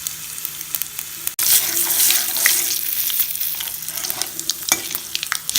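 Cumin, mustard seeds and chana dal spluttering in hot oil with a pinch of turmeric, a loud close crackling sizzle with sharp pops and a brief clatter at the start.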